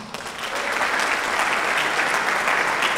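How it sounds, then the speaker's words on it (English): An indoor audience claps for a university fall concert band, dense sustained applause that stays loud and even throughout, with no voices standing out. "a round of applause for the concert band and all the students tonight"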